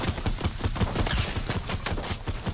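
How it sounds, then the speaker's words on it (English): Gunfire in the video game Fortnite rattles in a dense, rapid burst of shots, loud and continuous across the whole moment, with no speech over it. "I'm shooting at them."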